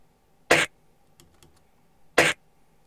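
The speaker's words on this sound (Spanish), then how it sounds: "Este trozo de un poco de tos nos puede servir" A cough sample chopped and pitched down to act as a snare drum: two short, sharp bursts about a second and a half apart, with faint clicks in between.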